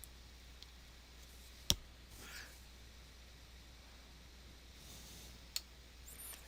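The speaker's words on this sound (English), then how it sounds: "I'm going to just click on create" A mouse button clicks once, sharp and close, while creating an offer. A second, fainter click follows a few seconds later over a quiet room hiss.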